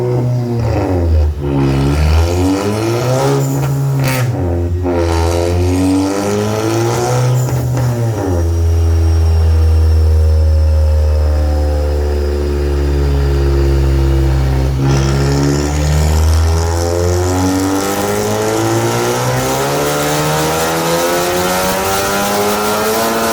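A tuned Mk7 Volkswagen GTI makes roughly 471 wheel horsepower on a dyno, its engine revving loud and close through several rising pulls. Each pull climbs in pitch and is followed by a long, sustained high-rpm wail.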